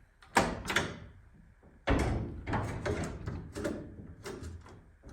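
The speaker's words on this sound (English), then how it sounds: "now when I turn the outside bolt that goes through the door, it will effectively turn these both" The bolt latch on welded steel garage French doors is turned and worked, giving close metallic clunks, rattles and scraping knocks in a few irregular bursts.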